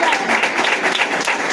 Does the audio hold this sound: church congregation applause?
yes